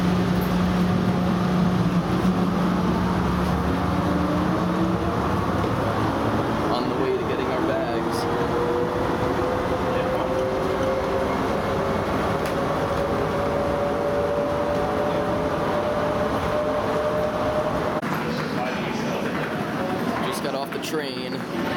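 Airport people-mover train ride at Pittsburgh International Airport, heard from inside the car as a steady rumble with a rising electric motor whine, voices in the background.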